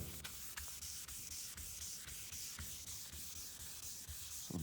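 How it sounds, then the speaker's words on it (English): By hand, a 1500-grit Trizact pad color-sands the paint on a 1959 El Camino, giving a steady, soft, hissing rub in a continuous back-and-forth rhythm, close and fairly quiet, with no voices. "You color sand it just like this by hand."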